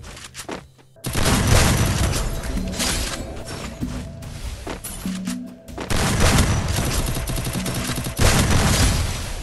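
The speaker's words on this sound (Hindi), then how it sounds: "गलत फायरिंग।" Gunfire from the video game Free Fire roars in loud, dense bursts of rapid shots that nearly fill the stretch, with a short gap near the start and a few brief breaks.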